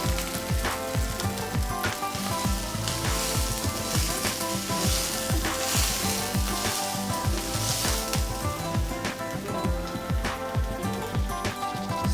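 Browned potatoes frying in spiced masala for a fish head pulao: a loud, dense, continuous sizzle with repeated soft knocks of stirring, close up and with no voices.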